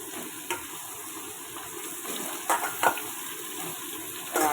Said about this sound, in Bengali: আর পটলটা একটু বেশ কড়া করে ভাজবো